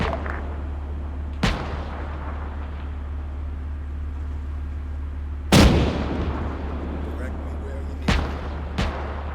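Gunfire in the Operation Desert Storm video game: four sharp, loud blasts at irregular intervals, one heavier than the rest, over a steady low engine drone.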